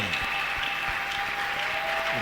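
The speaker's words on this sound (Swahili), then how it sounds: "Acclamons le Seigneur. Kumchapie Bwana makofi." Congregation applauding the Lord at a French and Swahili church service, a short continuous spell of dense clapping, steady and moderately loud, with a faint sustained tone running underneath.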